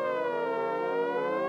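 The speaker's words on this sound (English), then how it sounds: "you hear them sirens?" A steady, sustained siren wail with a rich stack of harmonics, holding a nearly constant pitch throughout, loud and continuous with no talking.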